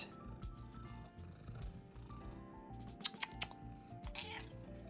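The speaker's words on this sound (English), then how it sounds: "Very loud purr" A cat purrs close by, a low rumbling drone that swells and fades with each breath, punctuated by a few sharp clicks and rustles partway through.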